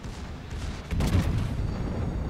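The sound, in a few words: torpedo hits on a ship in the video game World of Warships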